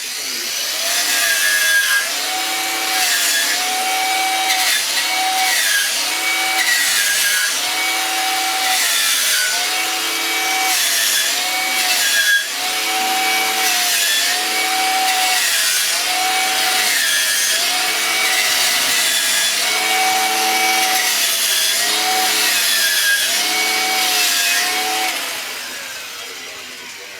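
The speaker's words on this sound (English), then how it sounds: "a better look at those welds now that I've run them over with the wire wheel" A power wire wheel brushes over steel welds on a window security bar, giving a loud, continuous whirring scrape. Repeated passes rise and fall in pitch for almost half a minute with no speech.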